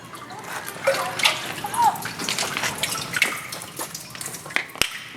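Water running from a tap or pump into a bucket at a rural community water point, splashing and trickling unevenly at close range with a few sharp clanks near the end.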